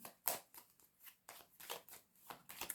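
Tarot cards are laid down and shuffled in several quick papery bursts, close and fairly quiet, with short pauses between each riffle and slap on the table.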